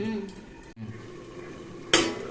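A lid lifted off a cooking pot of bottle gourd curry with lentil dumplings, one short metallic clatter near the end following a quieter knock, with kitchen background noise around it.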